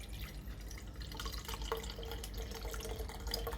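Chicken broth pours through a strainer into a cup, giving a soft, continuous trickle and light dripping with faint splashes, heard close up and quiet.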